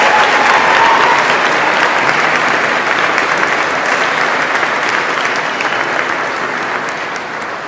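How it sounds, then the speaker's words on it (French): A large audience applauds at a French-language nursing graduation ceremony, dense sustained clapping that fills the hall, loud and close before slowly fading near the end. "applaudissons encore une fois nos finissantes et nos finissants du programme baccalauréat en sciences infirmières"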